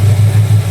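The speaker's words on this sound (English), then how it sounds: "I got it idling up a little bit right now, warming up." A boat engine idles steadily while warming up, a close, loud low rumble with a regular pulsing throb and no voices.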